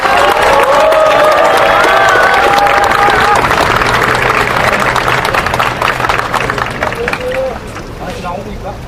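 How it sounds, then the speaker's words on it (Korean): A large outdoor crowd at a Korean political rally for the Unified Progressive Party claps and cheers loudly. The dense applause and shouting hold strong at first, then slowly thin and fade toward the end, with voices mixed throughout. "힘찬 박수로 보내주십시오."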